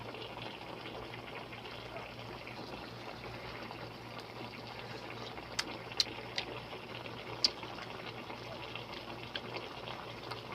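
A pot of adobong paksiw simmers and boils, a soft continuous bubbling hiss with a few faint clicks and pops, quiet and steady with no voices.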